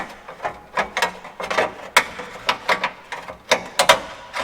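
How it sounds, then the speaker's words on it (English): A screw being undone on a Lamborghini bumper, heard as a close series of short ratcheting clicks and taps in uneven bursts, loud and dry, with no talking. "And then we'll undo this screw."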